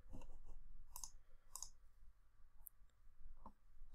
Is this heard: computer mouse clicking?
yes